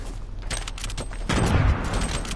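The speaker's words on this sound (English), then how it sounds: "I'm trying to shoot somebody right here." Rapid gunfire from a Fortnite match crackles in dense bursts, with a heavier, louder volley near the end.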